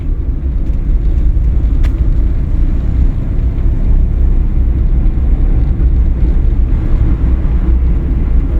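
A car engine pulls steadily after the clutch is released during a driving lesson, with a constant loud low rumble and road noise throughout and no distinct revving peaks.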